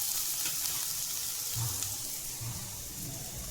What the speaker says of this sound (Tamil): இது அப்படியே வதங்கிட்டு இருக்கட்டும்.